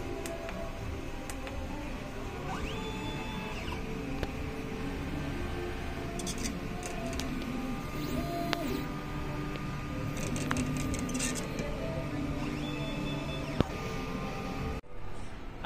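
An inkjet printer prints a nozzle test, giving off a steady mechanical whir with shuttling tones, soft clicks and brief ticks, continuous and close, ending in a short clunk.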